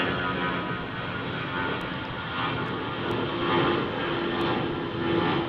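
An airplane engine roars steadily at Salt Lake City airport, a loud continuous broadband drone that swells slightly, with no voices.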